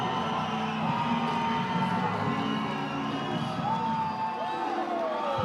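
A crowd at an amateur boxing title bout cheers and whoops continuously, with shouts and voices rising over a steady roar of noise.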